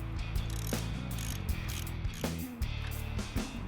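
A ratchet wrench loosens the bottom shock bolt on a Kawasaki KLR650 motorcycle, its pawl clicking rapidly and steadily in close, repeated strokes with short pauses between them.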